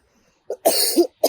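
A person coughs a few times close by, a short hoarse burst, then a longer harsh cough, then one more brief cough, with silence between.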